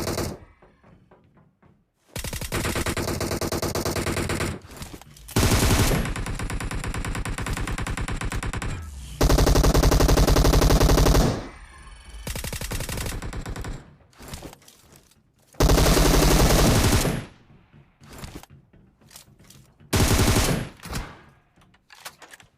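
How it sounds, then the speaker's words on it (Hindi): Gunfire in the PUBG Mobile battle royale game: loud bursts of rapid automatic fire and single shots, arriving in several long volleys separated by brief pauses. "लेकिन देखो अभी भी ऊपर से गोलियां चल रही थी"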